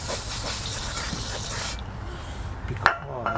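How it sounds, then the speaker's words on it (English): Brake cleaner aerosol sprayed onto the rear drum brake of a 1989 Ford Ranger XLT, a steady broadband hiss lasting about two seconds that cuts off, followed by a faint sharp click and quiet ambience. "just spray this brake fluid cleaner,"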